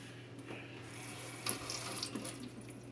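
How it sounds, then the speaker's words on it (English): Running tap water pours steadily over a raw fish being rinsed in a kitchen sink, a continuous faint splashing hiss with a brief louder splash partway through, no talking. "I'm going to give it a quick rinse."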